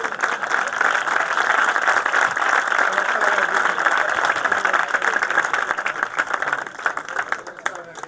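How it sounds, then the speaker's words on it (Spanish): Audience at a book presentation breaking into dense, sustained applause, many hands clapping close and loud for several seconds before easing slightly near the end. "Hoy, por favor, un aplauso,"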